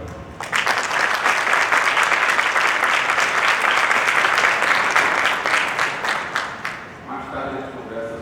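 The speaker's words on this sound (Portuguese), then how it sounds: "o que eu queria pedir uma salva de palmas para registrar o nosso muito obrigado por toda essa trajetória" A lecture audience at a conference on economic liberty and civil law breaks into sustained, loud applause lasting several seconds, fading out near the end as a voice begins speaking.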